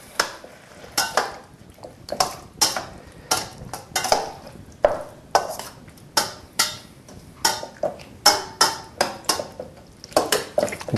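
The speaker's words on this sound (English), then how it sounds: "chop up the bigger bits and mix it all in" A spoon repeatedly scraping and chopping through vegetable bolognaise in a pan, a rhythmic series of sharp close knocks and scrapes, each fading quickly, with no voices.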